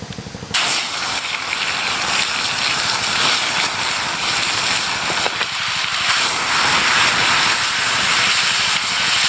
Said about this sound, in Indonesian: Nah teman-teman, ini udah panas minyaknya, kita langsung goreng.